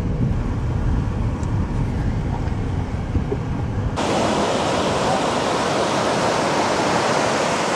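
Surf rolls steadily onto the beach at Playa la Penca, Costa Rica, a broad, continuous wash of waves that grows louder and brighter partway through.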